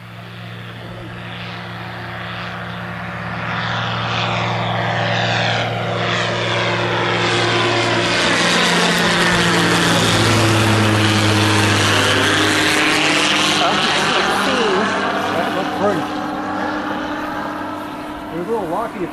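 A Zenith CH701 light aircraft takes off on its first flight, its propeller engine droning loud and steady as it climbs away and the pitch shifts, while onlookers talk nearby.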